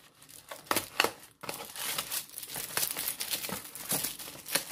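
A plastic perfume sachet being torn open, with sharp crinkling and tearing bursts spread over several seconds, close and fairly quiet, no talking.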